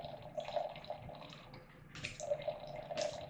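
A thin stream of wine trickles and splashes steadily into a glass through a Coravin, quiet and close, with brief louder gurgles near the end.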